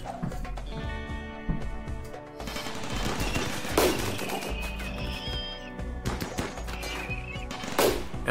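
Rapid gunfire from a light machine gun and turrets in the video game Rimworld as a wave of scythers attacks, a dense, steady rattle of bursts that carries on with only brief sharper cracks.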